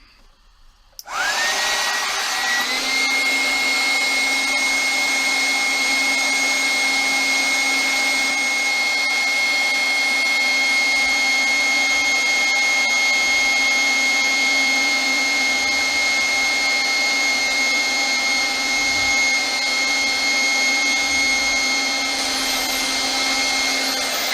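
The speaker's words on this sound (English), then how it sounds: "Repurposing an old airbed inflator to do the job of a vacuum cleaner." An old airbed inflator, used as a vacuum to suck air out of a storage bag, starts up and runs as a loud, steady, high-pitched motor whine and rushing air for over twenty seconds without pause.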